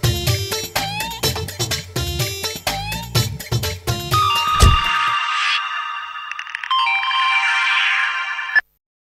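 A phone rings while a call is placed to a police station: a melodic ringtone of rapid plucked notes, then a sustained electronic tone phrase that cuts off abruptly, loud and close.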